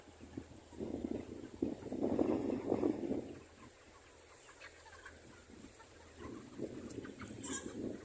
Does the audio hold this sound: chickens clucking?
yes